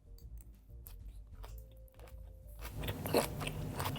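Someone bites into a fresh corn salad with feta, cucumber, tomatoes and onions, a close, quiet crunch that builds into chewing near the end, with no talk.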